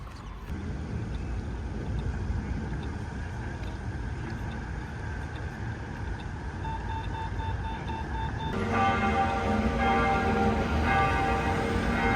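Bells of a modernist church in Leipzig ring out over city street noise and traffic, with steady repeated strikes that grow louder and fuller partway through.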